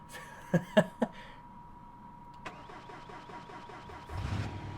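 A supercharged, 1,600-horsepower car in BeamNG.drive cranks reluctantly. A few sharp clunks lead into a stuttering, rhythmic starter churn that ends in a low rumble. All of it sounds faint and close.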